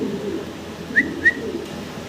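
Fancy pigeons in a loft give soft, low cooing, broken by two short, high whistling chirps close together. There is no talking.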